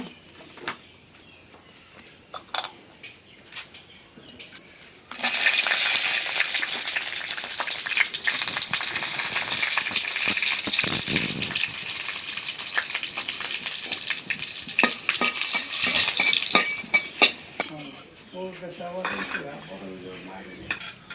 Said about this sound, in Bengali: শুকনো মরিচ ভাজি করবো।